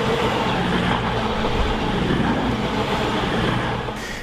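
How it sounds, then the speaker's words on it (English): Two trains pass one another near Darlington station, picked up by a fiber-optic railway sensor as a dense, continuous rumble that fades slightly at the very end. "we're seeing two trains passing one another as they move toward and away from Darlington station"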